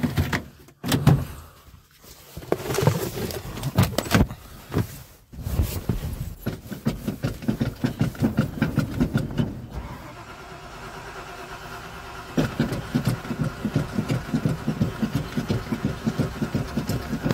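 A 1987 Ford F-150 pickup at 20 degrees: a door thunks, the starter cranks in a rapid rhythmic chug, then the cold engine catches into a steady, pulsing idle close by.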